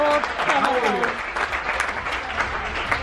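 Applause breaks out from an audience at a Halloween game show on a Disney Fantasy cruise, a dense burst of clapping and crowd noise that starts over a host's voice and carries on steadily.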